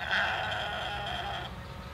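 A single drawn-out bleat from a lamb, fairly close and clear, wavering for about a second and a half before fading.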